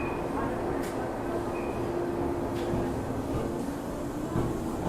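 A train pulls out of Kibukawa Station in Shiga, Japan, making a steady, close rumble of wheels and carriages that holds for the whole stretch, with some background voices present.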